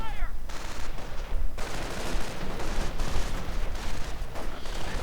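Gunfire in a WWII strategy game battle between Grenadiers and Panzer Riflemen, a dense, continuous crackle of rifle and machine-gun fire that keeps a steady pace under a busy, noisy battlefield mix.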